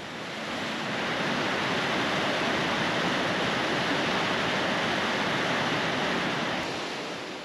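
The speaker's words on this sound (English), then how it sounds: "Well, there's a cool little waterfall." A small waterfall trickles in Maligne Canyon, Jasper, Canada, a steady broadband rush of falling water that holds constant and fairly close throughout, with no voices.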